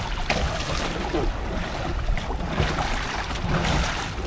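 A boat rocks on strong sea waves at sea during handline sardine fishing, with steady broadband water and wind noise washing continuously, no voices.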